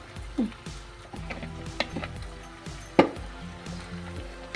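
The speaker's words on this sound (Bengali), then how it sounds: "পেঁয়াজটা লালচে লালচে ভাজা হতে চিকেনটা দিয়ে দিলাম, ম্যারিনেটেড চিকেনটা" Marinated chicken added to browned onions and frying in a pan, with a low, steady sizzle under repeated clinks and scrapes of a utensil stirring, including one sharp knock.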